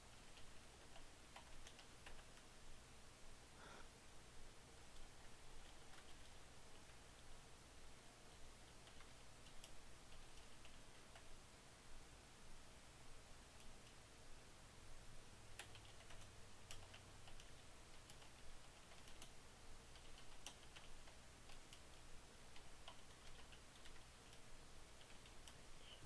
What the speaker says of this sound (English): Sorry, I'm typing stuff.